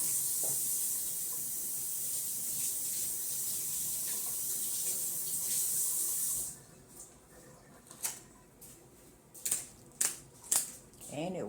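A running tap rinses Magnolia In Bloom soap off hands, a steady close hiss of water for several seconds that stops abruptly, leaving quiet room sound with a few brief rustles and clicks.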